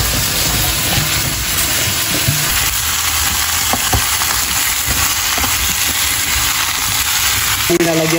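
Onion and garlic sizzle steadily in hot cooking oil in a pan, a continuous close frying hiss with occasional stirring clinks.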